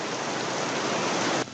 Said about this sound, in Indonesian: Jadi kan ada suara hujan tuh ya, tetetetetetetetet gitu kan